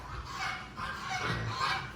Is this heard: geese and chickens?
yes